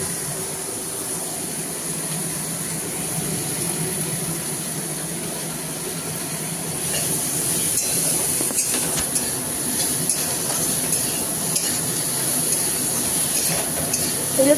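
Potatoes, pumpkin and fish frying in pans in a home kitchen give a steady, dense sizzle that grows louder about halfway through, with no talking.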